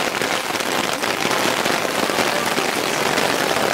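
Steady rain falls at Synevyr Lake in Ukraine during a fishing trip, a dense, even hiss of drops pattering on surfaces close by, continuous and loud throughout with no voices.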